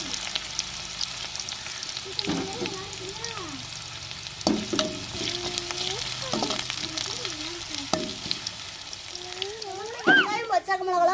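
Chopped onion and green chilli sizzle steadily in hot oil in a pan for a children's breakfast dish, with occasional stirring clatter and faint background sounds running through the frying.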